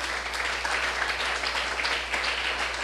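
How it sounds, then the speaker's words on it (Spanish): Applause from a church congregation during a sermon, a steady wash of many hands clapping at moderate volume with a low hum underneath and no voices on top. "¿Cuántos aplauden el nombre del bendito sea?"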